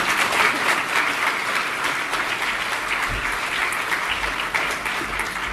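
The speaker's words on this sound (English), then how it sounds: "invite the Minister Mélanie Joly to address the crowd" A crowd applauds Industry Minister Mélanie Joly at a pharmaceutical event in Toronto, with dense, steady clapping that lasts throughout and stays close and loud.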